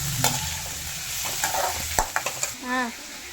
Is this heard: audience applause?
no